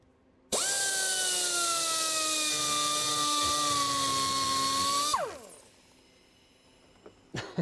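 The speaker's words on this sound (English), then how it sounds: "we're gonna have to file this a little bit." A small metal part from a Triumph TR6 carburetor-to-fuel-injection conversion is ground flat with a high-speed power tool, giving one steady, loud whine of about four and a half seconds that winds down into near quiet.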